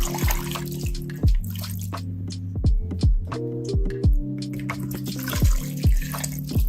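Pomegranate juice pours into a pressure cooker in a dripping, gurgling stream, close and fairly loud, with regular glugging pulses and splashes throughout.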